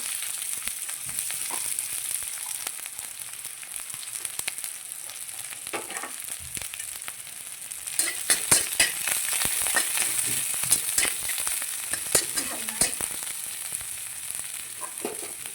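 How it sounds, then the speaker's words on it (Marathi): Chopped onion frying in hot oil in a kadhai for a Bhogi vegetable masala: a steady close sizzle with crackling pops that thicken in the second half, and no voices. "आपण कढईमध्ये तेल घेतलेलं आहे तेलामध्ये कांदा टाकायचा"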